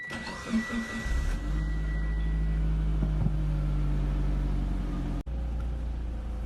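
A warmed-up car engine idles steadily with a low, constant hum and mechanical whir, close and continuous without talk, broken by a brief dropout near the end.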